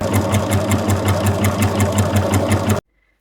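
A sewing machine stitches the arms onto a cloth doll, running in a loud, steady rhythmic chatter close by for under three seconds before stopping abruptly into silence.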